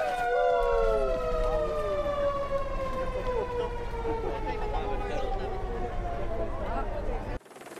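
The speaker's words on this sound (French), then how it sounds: "Il va avoir un klaxon sur le camion de pompiers." A fire truck's siren wails loudly, its tone sliding downward in long sweeping glides, mixed with a blaring horn at the start and overlapping voices in the background, then cutting off abruptly near the end.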